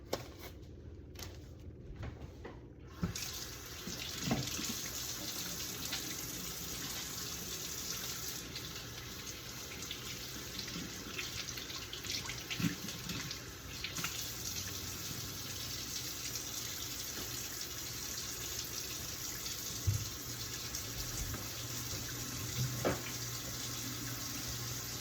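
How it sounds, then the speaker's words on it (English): Running tap water splashing steadily over hands at a sink, continuous and close, after the removal of gloves while a dry sterile dressing is changed; a few soft knocks and clicks punctuate the flow, with no talking. "And now I'm going to take off my gloves and wash my hands."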